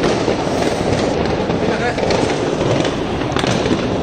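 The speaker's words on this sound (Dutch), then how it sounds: "vuurwerk. Oh, het valt weer naar beneden." Fireworks go off in a dense, continuous crackling and popping barrage, loud and close throughout, while voices talk over it.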